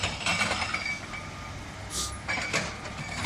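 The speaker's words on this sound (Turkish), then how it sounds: "görüyorsunuz bu kırıcının sesi" Steady industrial rumble of a rock crusher running, with grinding, clanking noise and bursts of hiss, continuous without speech.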